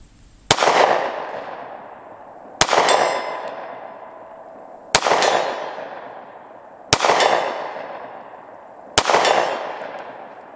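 Five loud pistol shots from a Sig P365 fired at a steel target 50 yards away, spaced about two seconds apart, each a sharp crack followed by a long ringing decay.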